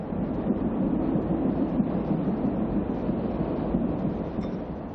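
Chicago, Burlington and Quincy diesel train running, a dense low rumble and roar that stays steady and fairly loud throughout, with no voices.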